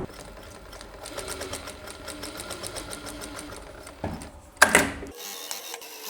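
A sewing machine runs a steady rapid stitching rhythm while sewing pleats on a skirt, close and fairly quiet, ending in a brief louder burst of handling noise before it stops.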